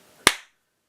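A single sharp hand clap, close and isolated, tests an Arduino clap sensor, with a short decay into silence.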